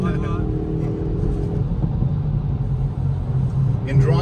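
A Hyundai i30N hatchback lapping the Nürburgring, its engine droning steadily with road rumble as it overtakes another car, heard from inside the cabin.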